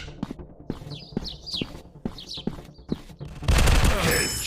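Rapid gunfire in a 3D counter-terrorist first-person shooter game, a series of sharp shots and clicks, closing in a loud burst of sustained firing.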